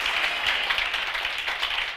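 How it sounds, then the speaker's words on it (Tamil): A church congregation at a Bible study claps their hands, a dense, steady burst of applause lasting throughout with no voices over it. "கைத்தட்டுங்க."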